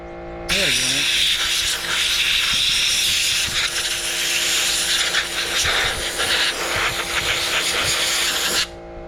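A Harbor Freight 18 oz portable abrasive blaster sprays regular baking soda, a loud, steady hiss of rushing air that starts abruptly, holds for about eight seconds, then cuts off.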